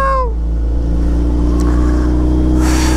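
A faulty motorcycle engine revs up sharply, then drops to a rough, steady idle, loud and close, with a brief rise near the end.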